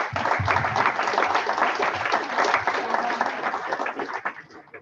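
Sustained audience applause at a science institute's day session, dense and steady throughout, fading slightly at the end.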